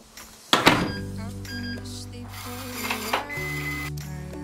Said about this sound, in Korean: 문을 열고 집에 이제 드디어 들어왔어요.